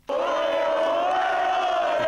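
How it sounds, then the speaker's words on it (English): Real Madrid fans cheering after a comeback victory in Lisbon, a loud, sustained roar of massed voices that starts abruptly and holds steady throughout. "The comeback victory gave plenty of reasons for Real fans to cheer about,"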